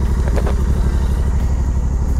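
A Royal Enfield GT 650 motorcycle idles steadily close by, its parallel-twin engine giving a loud, even low rumble with a rapid pulsing beat on a mountain road trip, with no talk over it.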